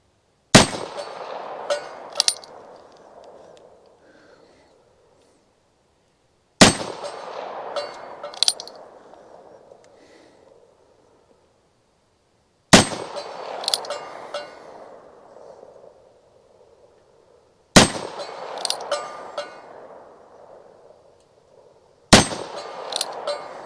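A Ruger Super Wrangler .22 Magnum revolver fires 40 grain Maxi Mag JHPs in five sharp, evenly spaced shots, each followed by a faint metallic ring of a target hit downrange.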